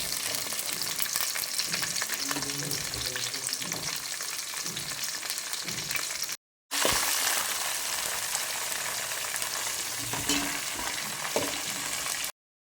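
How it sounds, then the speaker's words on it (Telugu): Green chillies and potatoes fry in oil in a pan for pulao with a loud, dense, continuous sizzle. Stirring scrapes now and then, the sound breaks off briefly partway through, and no voices are heard. "కొంచెం పచ్చిమిర్చిని కూడా మగ్గనిద్దాం."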